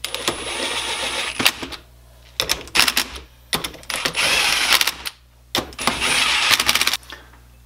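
Bolts on a Ford 9-inch differential ring gear are run down with a power tool, giving loud rattling, buzzing bursts in four separate runs, each lasting about a second or two, with short quiet gaps between them.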